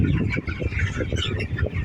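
A flock of twenty-day-old chickens clucks and squawks continuously close by, in a dense, overlapping chatter of calls.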